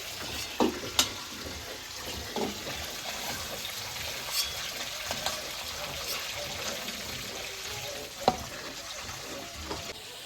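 Chicken pieces frying in a pan until reddish-brown, a steady close sizzle with occasional clinks and stirring knocks, and faint voices now and then in the background.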